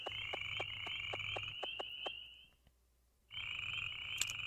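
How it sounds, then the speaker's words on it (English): Crickets chirp at night in the video game Harvest Moon 64, a steady high trill with rhythmic pulses that cuts out into near silence for under a second before resuming. "I think as long as you can still hear the crickets."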